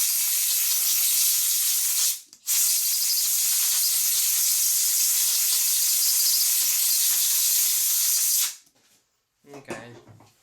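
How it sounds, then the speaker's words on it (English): An air compressor blows a loud, steady high hiss of air for about eight seconds during clipper repair work, with one brief break near the start before it cuts off, followed by a few faint handling noises. "Hold on one second, I have to turn on my air compressor."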